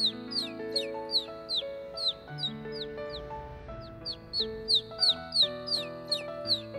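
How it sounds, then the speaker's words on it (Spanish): A cartoon bird calls in a repeated run of short chirps over a bright music background, with a pause before a second burst of chirping near the end and no talk. "¡Un pájaro bonito!"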